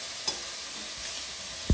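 Pork meat fries in a pan with a faint, steady hiss that carries on throughout, ending in a louder knock from a utensil near the close, with no voices.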